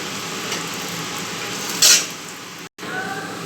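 Radish slices frying in a pan of hot oil, a steady dense sizzle throughout with a brief brighter burst midway and a momentary cutout near the end.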